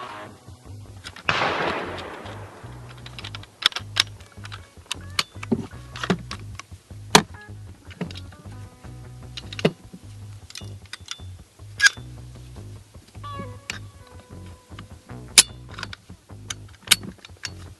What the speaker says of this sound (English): So now I'm going to swap out these uppers in the same exact way as the AR-15.